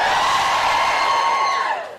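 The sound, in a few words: studio audience cheering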